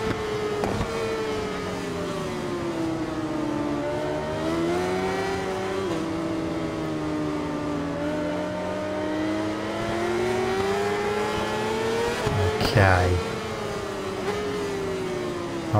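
Ducati superbike engine in the RIDE 4 racing game, a continuous high-pitched whine rising and falling through gear changes, with a sharp downshift and rev burst near the end and no talk.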